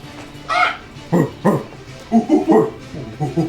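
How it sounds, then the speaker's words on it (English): Several dogs bark and yip in short bursts, fairly close, with uneven rhythm and some whimpering between barks. "you guys all hear now a bunch of barking"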